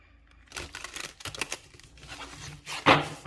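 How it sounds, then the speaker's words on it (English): Quick riffling and snapping bursts of a tarot card deck being shuffled close by, a few short flurries separated by brief pauses. "I'm going to give it one more shuffle."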